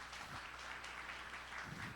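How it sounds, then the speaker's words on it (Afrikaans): A church congregation claps during an online service, making a steady, even wash of applause that holds for the whole stretch at moderate distance, with no voices over it. "kom ons gee die ouens 'n hande klap"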